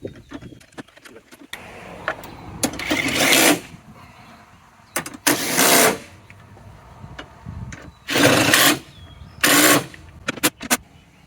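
Battery bracket bolts being tightened on a 2015–2020 GM full-size SUV such as an Escalade ESV, Tahoe, Suburban or Yukon XL, with several loud bursts of a power ratchet or impact tool between quieter clicks and handling noises.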